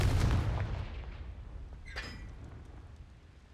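A Confringo blasting spell from Hogwarts Legacy goes off as one loud, deep blast that slowly fades, with a short crackling burst partway through the decay.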